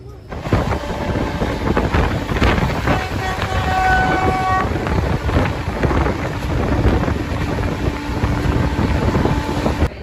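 A train rumbles steadily along an Indian railway line on the Gwalior-to-Punjab route near the Chambal river, with continuous clatter and a sustained horn-like tone partway through.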